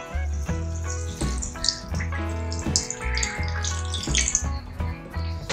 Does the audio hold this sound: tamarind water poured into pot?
yes